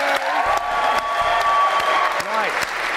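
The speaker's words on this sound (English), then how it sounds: "Give her a big round of applause." Game show studio audience applause after a contestant leaves with nothing on The Bank Job: steady clapping throughout, with sustained musical tones and sweeping electronic sting effects layered over it.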